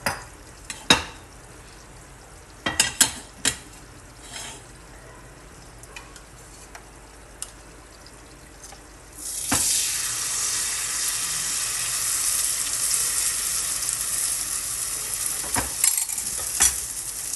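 A chicken curry mixture being stirred as it fries in ghee: scattered utensil clicks and taps at first, then a sudden, steady sizzle that continues with occasional scrapes.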